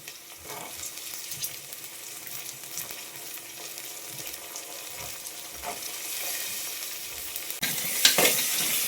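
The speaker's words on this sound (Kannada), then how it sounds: "ಇವಾಗ ಬಟಾಣಿ ಹಾಕ್ಕೋತಾ ಇದ್ದೀನಿ." Dried peas, soaked overnight, go into a hot frying pan and are stirred, giving a soft continuous sizzle with scraping stir strokes that grow slightly louder toward the end.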